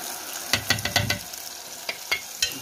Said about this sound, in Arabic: هننزل بالطماطم اللي انا عصراها